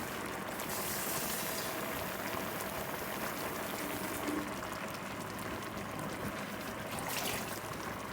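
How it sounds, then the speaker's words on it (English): Beans boil hard in a pot of water, giving a dense, steady bubbling and rushing hiss that continues evenly and close without pause, with no talking. "We'll give them a hard boil to start, but then we're going to back it down and let it go at a nice low temperature"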